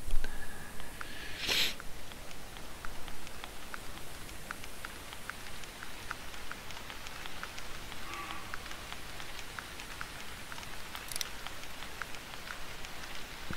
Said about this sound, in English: as it starts raining again